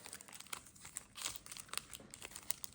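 Yu-Gi-Oh trading cards being shuffled give a close, quiet run of papery riffling and crinkling with a fairly even rhythm and no talking.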